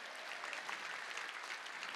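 A church congregation at a Korean Sunday worship service bursts into brisk, continuous applause, a dense wash of many hands clapping at moderate distance throughout, with no speech.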